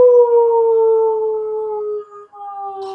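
A voice imitating a wolf howling at the moon, one long sustained wavering howl held for about three seconds, close and clear against silence.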